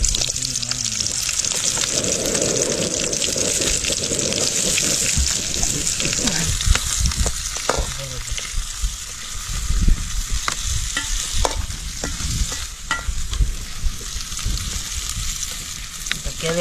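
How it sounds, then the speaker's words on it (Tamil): Onions for a crab curry frying hard in a pan outdoors, a loud, dense sizzle with repeated stirring scrapes and clatter throughout, while people talk now and then. "ஓகே வெங்காயம் போட்டுக்கலாம்"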